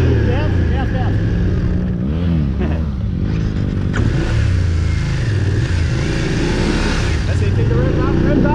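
A BMW motorcycle engine revs during a riding lesson, its note rising and falling continuously and fairly loud, while a person talks over it throughout.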